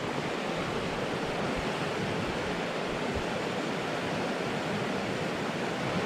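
Mission Creek at kilometer 0 of the High Rim Trail in the Okanagan, British Columbia, rushing steadily as a broad, continuous wash of flowing water, close and even throughout with no voices.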